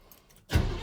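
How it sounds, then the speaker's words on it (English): A 1953 GMC truck engine, cold and without a choke, briefly turns over and catches after a short quiet pause, a sudden close burst of low engine noise. "No choke, so it's a little on the cold-blooded side."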